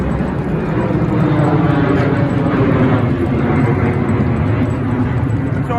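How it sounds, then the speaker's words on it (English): An airplane passes overhead above an old dump where bottles are being dug, giving a loud, steady broadband roar that fills the whole stretch without a break. "Airplane."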